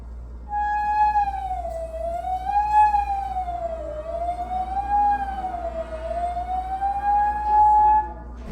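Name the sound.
flute head joint played with finger sliding in open end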